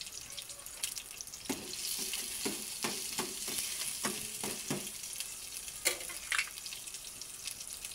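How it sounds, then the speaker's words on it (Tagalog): Ginger and onion sautéing in a pan, a close, steady sizzle and hiss punctuated by scraping stirs and light clinks of a utensil, continuous with no talk. "Ginisa ko na yung luya,"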